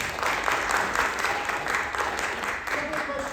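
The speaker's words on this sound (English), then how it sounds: "So applause again for the actors." A theater audience after a performance of Sophocles' Antigone applauds the actors: dense, even clapping from a full house, with faint voices rising toward the end.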